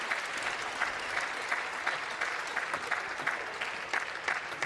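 Steady applause from a crowd at a table tennis quarter-final of the 2011 World Championships men's doubles, a dense continuous patter of clapping with no talk, even in level throughout.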